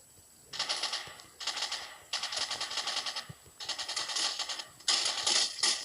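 Rapid automatic gunfire in the Rules of Survival battle royale game, four to five sustained bursts of rattling shots separated by short pauses, loud and close with no talking.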